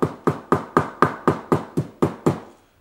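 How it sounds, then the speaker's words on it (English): A hammer steadily taps down waxed-thread stitches on a leather zip wallet: ten evenly spaced, close, solid knocks in a regular rhythm, then the sound stops. "once we hammer these stitches down"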